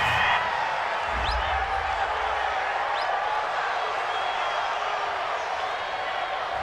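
Home crowd in the Madden NFL 20 video game, Lions at Cardinals, roars steadily after a defensive pass interference call, a broad, constant stadium wash of cheering with a commentator's voice under it.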